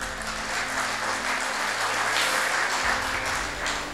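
An audience at an awards ceremony claps steadily for about four seconds, a dense and even wash of many hands heard with no one talking.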